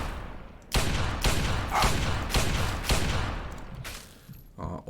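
A rapid run of loud, close gunshots in Fallout 3, five or six heavy booming blasts in quick succession, each with a long reverberant tail, followed by a brief quieter shot and rattle near the end.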